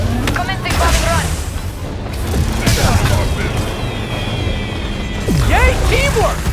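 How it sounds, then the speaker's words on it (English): Bombs blast during a bombing run in the Spider-Man: Silver Lining video game, heavy booms and crashes rolling loudly through busy game noise for several seconds, with voices talking over parts of it. "Commencing bombing run."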